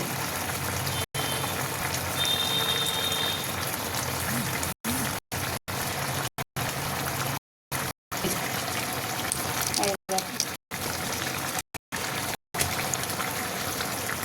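Water splashes and trickles into a mixer grinder jar to rinse out clinging poppy seed paste, a steady close wash broken by several abrupt silent gaps.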